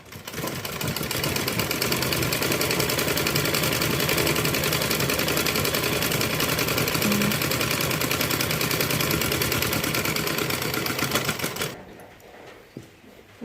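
A sewing machine stitching a blouse runs in a steady, fast mechanical chatter for about twelve seconds, moderately loud and close, then stops abruptly, leaving quiet room noise.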